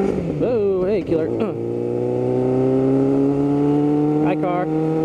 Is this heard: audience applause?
no